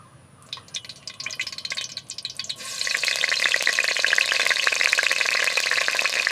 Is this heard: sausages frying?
yes